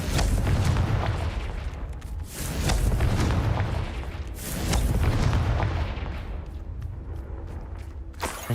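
A Confringo spell blast in Hogwarts Legacy booms out as heavy, rumbling explosions, loud and close, swelling and fading in several waves over roughly eight seconds.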